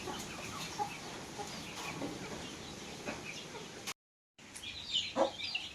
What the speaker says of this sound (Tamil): இப்போ சிறுவிடை வந்து நாட்டு இன கோழியில் ஒரு வகை.